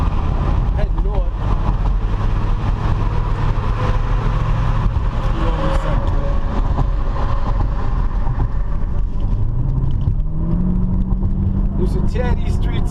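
A car cruises north on the Bruckner Expressway in New York with steady road and engine noise and wind rush up close, while someone talks throughout.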